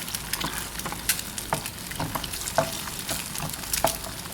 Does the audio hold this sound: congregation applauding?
no